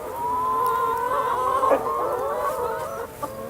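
Chickens inside a coop cluck and call continuously, close and fairly loud, with overlapping tonal clucks and squawks.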